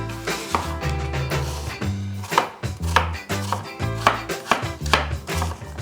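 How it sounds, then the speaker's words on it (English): A knife chops a peeled apple into small one-centimetre pieces on a board, with steady, fairly loud repeated cuts, close by and with no talking. "I'm just going to peel it and chop it up into tiny 1 centimetre pieces"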